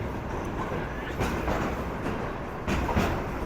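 An express train runs at night, a steady loud rumble of wheels on rails with faint rhythmic clacks rising at intervals, heard from on board without talk.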